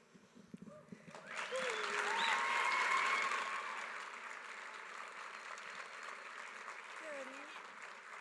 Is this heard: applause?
yes